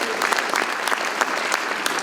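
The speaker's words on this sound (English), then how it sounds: "a round of applause for TIFA" An audience at a city State of the City address breaks into steady applause, a dense even wash of many hands clapping for two seconds with no speech on top.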